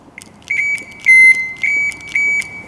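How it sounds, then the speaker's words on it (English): Several sharp electronic beeps at a steady high pitch from a Nissan GQ Patrol with the key in the start position, a short chirp followed by longer tones in a regular pattern, with faint low rumble underneath. "I should get the beeps when it's in the start position."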